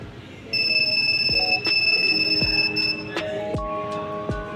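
A steady high-pitched electronic buzzer tone from an Arduino Uno heart-rate alarm sounds continuously for a few seconds, with scattered clicks and faint background noise around it.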